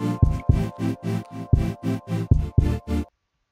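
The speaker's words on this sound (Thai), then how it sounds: "ใจเต้นหรือหัวใจเต้นอย่างแฮง" Steady heartbeat sound effect, about eleven loud, evenly spaced thumping beats with a low hum beneath, ending abruptly in silence.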